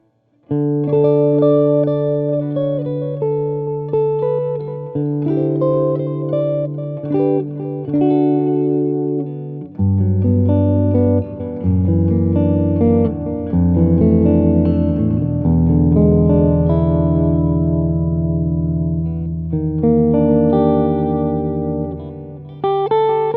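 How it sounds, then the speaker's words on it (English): Electric guitar played through a TC Electronic Flashback Mini set to a saturated tape-delay voice, sustained chords and melodic notes ringing with warm, full repeats trailing behind each phrase, loud and continuous with no talking. "a different take on a classic tape delay, with a high degree of tape saturation on the repeats"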